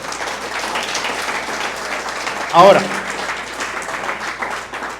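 Church congregation applauding during a Spanish-language Christian sermon, a steady wash of clapping throughout with a brief voice cutting in near the middle.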